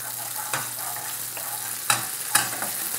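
About a teaspoon of mustard seeds fries in hot oil for a fish kalia curry, a steady close sizzle broken by a few sharp pops and crackles.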